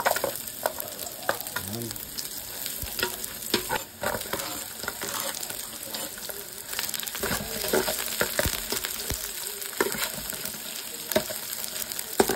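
Ginger sizzling and frying in hot cooking oil for papaitan, a steady crackle with stirring scrapes throughout, with a brief spoken word.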